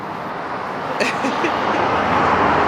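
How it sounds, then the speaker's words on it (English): A truck rolls past on a road, a broad rumbling roar that swells and grows louder over the clip, with brief voices talking underneath. "let's wait till this truck goes by"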